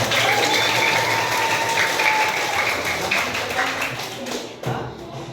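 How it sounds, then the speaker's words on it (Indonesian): Schoolchildren at an Indonesian elementary school clap together during a health outreach session, a lively burst of many hands that tapers off, with voices underneath. "Tepuk tangan dulu, tepuk tangan."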